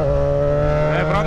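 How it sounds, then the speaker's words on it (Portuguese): A motor scooter revs hard nearby, a loud sustained buzzing engine tone that rises in pitch toward the end as it accelerates, with a voice over it. "Acelerar pesado essa lambreta aqui, né, moleque?"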